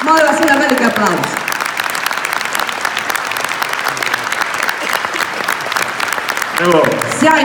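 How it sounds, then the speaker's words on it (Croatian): A concert audience bursts into loud, sustained applause for a Croatian klapa group, a dense wash of clapping that runs the whole stretch, with a voice speaking briefly at the start and again near the end. "Molim vas jedan veliki aplauz."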